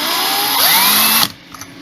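A Lyman Easy Trim hand tool trimming a brass cartridge case gives a brief, close whirring, scraping grind that rises in pitch, then stops abruptly, followed by a faint click.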